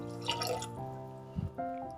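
Water for wedding-style peas upma is poured into a pot in a home kitchen, giving soft splashing and trickling sounds with a gentle gurgle. The pouring is faint and close, and no one speaks.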